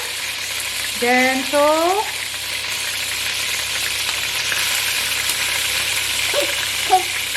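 Onions frying in hot oil, a steady close sizzle running throughout, with a few short voiced sounds and brief talk partway through.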